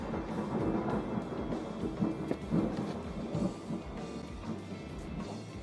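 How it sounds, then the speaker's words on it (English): Thunder rumbles on through a storm, with a steady low roar and a few louder swells. Rain may be mixed in, and the storm is heard from indoors at a moderate distance, with no voices. "I didn't know it was supposed to storm today."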